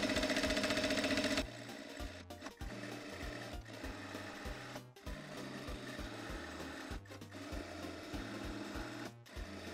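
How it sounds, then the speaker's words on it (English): Sewing machine stitching a patch onto jeans, running backward in a fast steady mechanical whir with rhythmic low thumping of the needle, briefly pausing several times between bursts, alone with no speech. "Then we're gonna sew backward."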